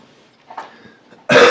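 A single sharp cough bursts out close by at the end, after some quiet, faint throaty sounds.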